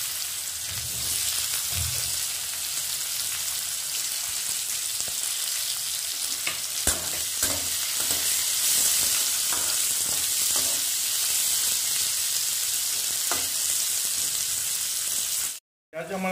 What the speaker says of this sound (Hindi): और अभी इसमें प्याज दे जाएंगे और प्याज को कुछ समय तक फ्राई करेंगे।